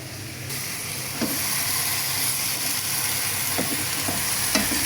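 Malabar spinach dropped into a pan of browned fried shrimp sets off a loud, steady hiss and sizzle, with a few soft clicks of stirring over the constant frying noise.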